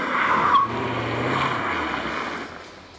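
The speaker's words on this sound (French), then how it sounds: "Écoutez le son de la voiture." Lexus RC-F sports car driving flat out on a closed race circuit, a steady engine roar and tire noise that swells early, then slowly fades as the car pulls away, with no talk.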